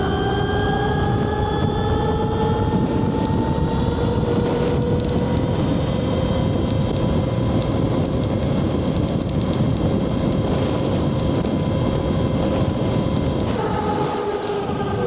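NIU XQi3 72V street-legal electric dirt bike accelerating in Ultra Boost mode, a loud continuous rising electric motor whine with steady rushing wind noise throughout.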